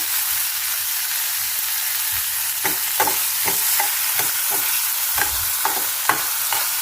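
Onions sautéing in a pan for a milk vegetable curry, a steady close sizzle with scraping stirs of a spoon breaking through in short irregular strokes, no voices.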